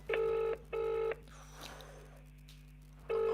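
A telephone on speakerphone dials out, giving a loud repeating ringback tone in steady half-second bursts with a short pause between them and a longer quiet gap before the next ring, over a low electrical hum.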